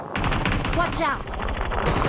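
Rapid automatic gunfire in a video game rattles in a steady, loud, close burst lasting a couple of seconds, with game voices mixed underneath.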